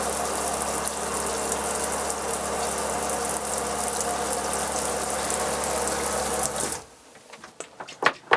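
Shower faucet in an Airstream Caravel RV runs steadily with a loud, broadband rush of water over a low pump hum, then cuts off abruptly near the end, leaving a few faint knocks and taps.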